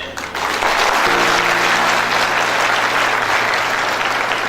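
Dense, sustained audience applause fills the hall at a Republic Day gathering, loud and steady from start to finish with a faint low hum beneath and no speech.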